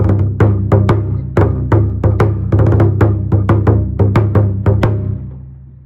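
Taiko drums playing Yatai Bayashi phrases in rolls of five, sharp booming strikes in quick clustered groups with a low sustained resonance beneath, loud and close, fading at the end.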